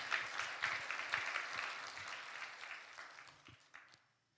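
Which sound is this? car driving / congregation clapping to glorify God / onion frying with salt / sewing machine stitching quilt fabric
congregation clapping to glorify God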